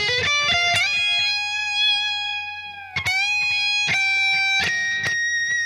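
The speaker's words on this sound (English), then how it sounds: "tricky to get that pinch harmonic sometimes" Sustained, distorted electric guitar pinch harmonics ring out with bright, high overtones and wavering vibrato, punctuated by sharp picked attacks, from a solo; no talking.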